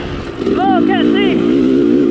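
An off-road vehicle's engine revs harder as throttle is added, a loud, rising growl close by, with someone speaking over it.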